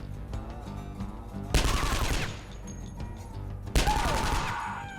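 Gunfire in the turn-based post-apocalyptic game Skyshine's Bedlam: two loud bursts of rapid shots about two seconds apart, each with a crashing impact and a ringing tail, over a steady game music bed.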